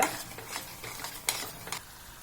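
Mushrooms sautéing in a pan with chicken masala and garam masala powder, a soft steady sizzle broken by a few sharp stirring scrapes, close and fairly quiet with no voices.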